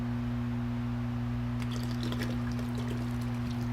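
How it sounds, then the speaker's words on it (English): Water pours from a small bottle into an algae container in a survival game, a short gentle splashing trickle starting midway over a steady low electrical hum. "Teraz do kontenera z algami wlejemy buteleczkę wody."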